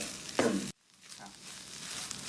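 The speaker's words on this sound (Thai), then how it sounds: "วันนี้ผมจะผัดแห้งๆ ไฟแรงๆ" Grilled field rat being stir-fried dry over high heat in a pan, a loud scraping stir and sizzle that cuts off abruptly, then a softer steady frying hiss resumes.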